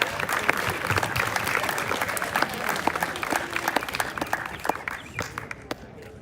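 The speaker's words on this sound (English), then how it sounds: "can we get one more round of applause for our spring athletes?" Sustained crowd applause for spring athletes at a school athletic celebration, dense clapping filling the room for about six seconds before thinning out at the end.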